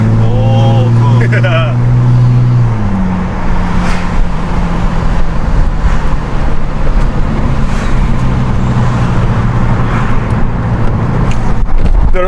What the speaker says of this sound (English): The rumble is awesome when you're accelerating, right?